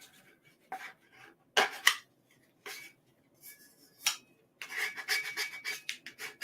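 A squeegee rubs and burnishes sublimation paper onto a tumbler in short, close, scratchy strokes with brief pauses, quiet and without talk.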